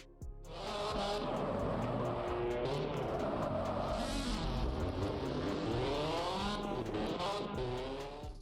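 Race cars in the multiplayer racing game Gran Velocita roaring past at full throttle, engines loud and sustained with shifting pitch and tire squeal, fading in and out at the edges.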